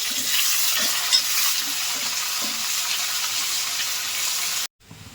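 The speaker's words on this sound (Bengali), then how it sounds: "উচ্ছে ছিঁড়ে কটা ভেজে নিচ্ছি।" Torn pieces of bitter gourd frying in oil with a dry chilli and nigella seasoning, a loud continuous close sizzle with light stirring scrapes, cutting off abruptly near the end.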